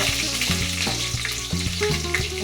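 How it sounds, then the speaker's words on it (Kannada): Chillies crackle and sizzle steadily in hot tempering oil with frequent sharp pops, a busy close-up spitting sound with a low musical hum running underneath. "ಮೆಣಸಿನ್ಕಾಯಿ ಎಲ್ಲ ಚಟ್ಪಟ್ ಚಟ್ಪಟ್ ಸಿಡಿದ್ಮೇಲೆ ಪಟಾಕಿ ಪಟಾಕಿ"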